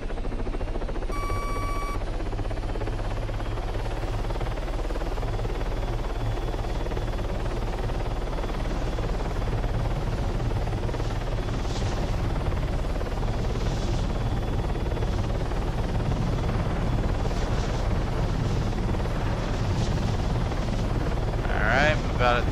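Steady rotor drone of a smaller helicopter in a video game, with a low engine rumble, continuous and fairly loud throughout, with brief faint electronic tones near the start.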